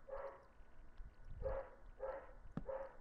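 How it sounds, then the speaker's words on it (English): A dog barks indoors in the background, four short separate woofs spaced about half a second to a second apart, moderately faint and with no talk over them. "Sorry, my dog's barking."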